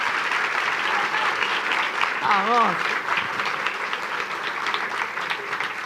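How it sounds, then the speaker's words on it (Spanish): Audience applause at the close of a talk, dense and steady clapping filling the room throughout, with a brief shouted cheer from one voice partway through. "¡Fuerte el aplauso!"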